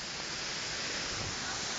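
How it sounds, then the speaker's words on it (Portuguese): A waterfall roars as a continuous, dense rush of falling water, steady and fairly close without any break. "Indo agora até a cachoeira"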